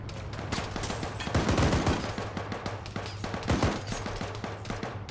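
Dense gunfire in the military shooter Arma 3 during a realism squad exercise, loud overlapping rifle and machine-gun bursts with heavier close cracks, continuous throughout with no talking.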